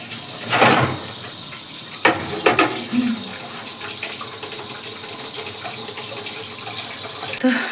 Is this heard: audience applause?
no